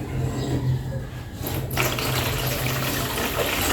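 Water gushing and splashing steadily as it is poured into a cement mix, loud and close, with a brief lull before the pour continues strongly.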